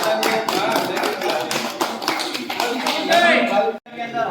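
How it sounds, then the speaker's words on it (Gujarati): A crowd claps in a sustained round of applause at a village honoring ceremony in Khareda while a voice talks loudly over it, ending in a sudden brief break. "જોરદાર તાળીઓથી"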